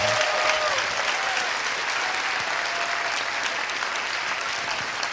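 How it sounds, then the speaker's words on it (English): An audience applauds steadily and densely for the whole stretch, a continuous wash of many hands clapping at even loudness, with no voices standing out. "big round of applause for everybody."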